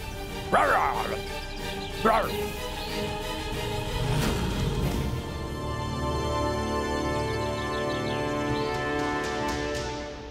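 Two sharp dog barks near the start, then a dull background murmur with faint whimpering and rustle continuing to the end.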